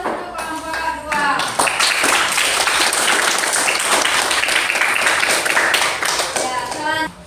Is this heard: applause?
yes